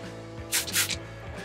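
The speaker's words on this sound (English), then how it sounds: "I'll go ahead and spray a little soapy water here around our fittings." Three short hissing bursts of soapy water from a spray bottle sound in quick succession on RV propane hose fittings, close and fairly soft over a steady background hum.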